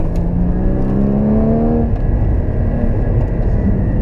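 A Porsche 981 GT4 engine pulls hard on a mountain road, its rising rev tones climbing through the gears before settling into a steady, loud drone with continuous road and wind roar, no voices.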